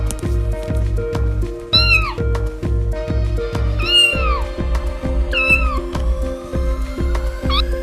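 A cat meows several times, with rising and falling cries over steady, loud rhythmic background music in a children's bedtime story about a cat and a rat.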